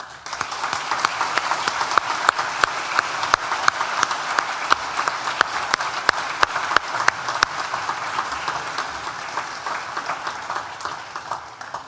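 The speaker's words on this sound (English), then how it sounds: "please join me once again for a big collective round of applause." A large graduation-ceremony audience at NTU's School of Arts and Humanities breaks into sustained applause, dense steady clapping from many hands filling the hall at a fairly even level throughout, with no talking over it.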